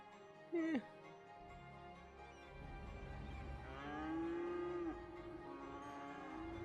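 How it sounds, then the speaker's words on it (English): Cartoonish cow moos from the city-building game Cities: Skylines: a short sharp moo, then a longer drawn-out one, over a steady game hum and a nearby voice. "I love those cows."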